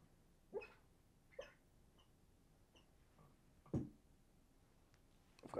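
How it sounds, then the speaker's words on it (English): A sleeping dog lets out a few soft, muffled yips and whimpers at irregular intervals, separated by quiet stretches, close by. "I've got a dog dreaming in the background."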